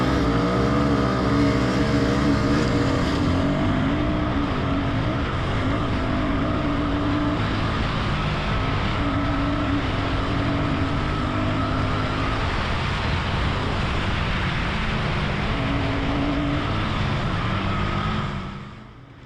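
Royal Enfield Bear 650 motorcycle ridden hard along a timed off-road trail, its engine note rising and falling steadily and close by throughout, with no talk.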